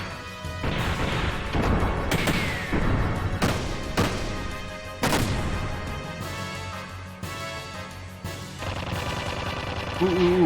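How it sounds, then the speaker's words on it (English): A flashbang detonates in the Xenogears role-playing game as a sequence of loud, punchy blasts and crashing impacts layered over game music, with a brief ringing tone at the end. "Ooh, flashbang."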